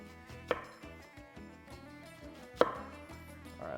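Knife slicing onions thinly on a cutting board for a beef kabob meal prep salad: two distinct sharp chops about two seconds apart, close and moderately loud, with quiet kitchen noise between them.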